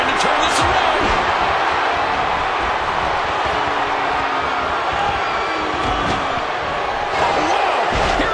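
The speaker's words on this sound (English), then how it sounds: "And listen to this crowd!" Video game wrestling crowd in WWE 2K17, a dense continuous roar of cheering arena fans filling the whole stretch at steady loudness, with commentary voices talking over it.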